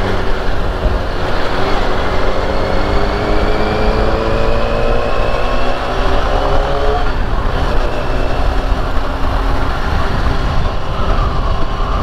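A Yamaha NMAX scooter carrying a passenger races along a city road, its engine whine climbing and sweeping past over constant loud traffic rumble, with no talking.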